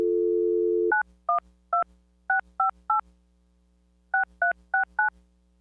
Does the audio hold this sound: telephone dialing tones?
yes